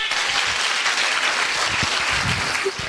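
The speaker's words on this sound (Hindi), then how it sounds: "एक बार जोरदार अपने लिए तालियां बजाएं।" An audience of women at a Kushwaha community gathering in Bhopal claps loudly together, a dense, steady wall of applause with no pauses for the full length, easing only slightly at the very end.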